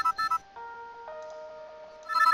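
A desk telephone rings for an incoming call to an agent in a clinic scheduling system, giving repeated electronic ringtone bursts with steady tonal notes in between, close and clear with no speech.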